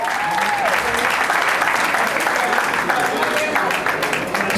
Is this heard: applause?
yes